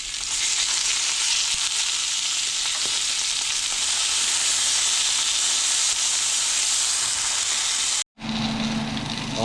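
Salmon pieces for a spicy salmon roll fry in oil in a pan under a plastic cover, giving a loud, steady, close sizzle that cuts out briefly near the end before resuming.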